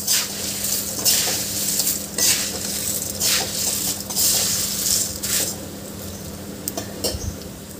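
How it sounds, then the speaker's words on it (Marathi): Puffed rice chivda being stirred and fried in a pan, with a spatula scraping and rattling in repeated strokes over a steady sizzle, close and fairly loud, no talking. "आपण या चिवड्याला 2-3 मिनटं छान परतून घ्यायचं आहे।"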